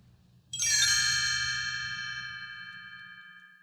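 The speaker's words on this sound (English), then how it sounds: "You will know it is time to turn the page when you hear the chimes ring like this." A single bright chime rings out clearly and sustains, slowly fading over a few seconds, with a faint low hum underneath.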